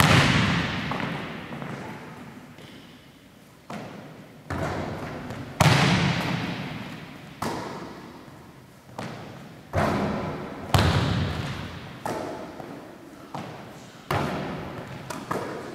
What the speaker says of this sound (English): We will also set up the gun, the rebounding machine, for the varsity and JV kids, and they get to go through these 5 spots.